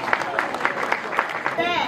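Wedding guests clapping for the couple, a burst of scattered claps with cheering voices, close and lively, fading into talk near the end.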